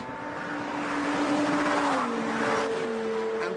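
A Lamborghini Gallardo and a Ferrari F430 race, their engines holding a steady, fairly loud drone with audible pitch shifts as they accelerate together.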